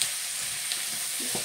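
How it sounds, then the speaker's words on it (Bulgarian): Peppers, carrots and onions frying and being stirred in a pan, giving a steady soft sizzle with a few low scraping stir sounds near the end; no voices. "Бъркаме, бъркаме хубаво чушките да се позапържат и те да омекнат."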